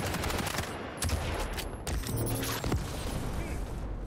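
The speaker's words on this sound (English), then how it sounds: "answering back with that super nail gun" Rapid weapon fire from the super nail gun in the Quake video game during a 1v1 championship qualifier match, dense clattering bursts with booms and mechanical clanks, loud and close.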